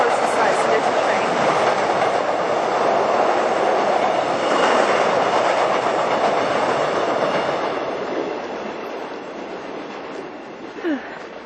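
A train rumbles past steadily and fairly loud, a broad continuous roar with faint rail clatter, fading slightly toward the end.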